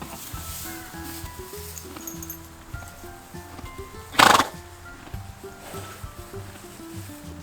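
A wild horse gives one loud, sharp whinny midway through, standing out over quieter background clopping and low rumbling.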